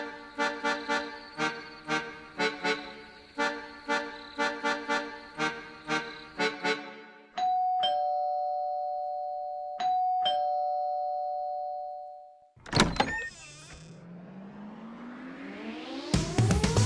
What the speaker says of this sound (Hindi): फिर बजी दरवाजे की घंटी।